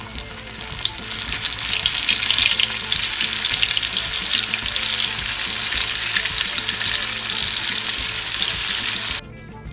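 Shrimp fry in hot grease with a loud, steady crackling sizzle that swells after the first second, holds evenly, and cuts off abruptly near the end; no talk.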